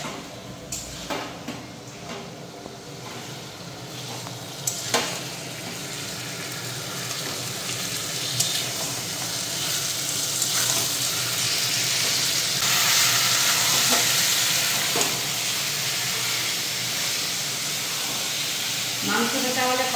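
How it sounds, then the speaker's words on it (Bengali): Meat sizzles and is stirred in a pan while being slowly fried down for a Bengali home-style curry, with a continuous close frying hiss, occasional utensil clanks and scrapes, and some faint background talk. "মাংসটা দেওয়া হয়ে গেছে, এখন আমি মাংসটা একটু ভালো করে কষিয়ে নিই,"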